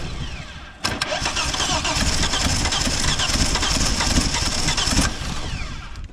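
A Holden HQ one-tonner engine cranks steadily for about four seconds, a loud continuous churning starter rhythm that cuts in abruptly and stops without the engine catching.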